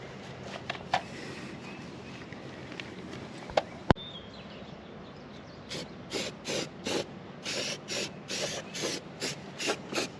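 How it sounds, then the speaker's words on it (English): Bursts of primer aerosol hiss onto the cut edges of a steel shipping container, about eight short, evenly paced sprays in the second half, close and moderately loud over a steady background rumble. "We're going to throw some primer on these edges because I know these steel buildings, they're prone to rusting anytime you cut some paint off."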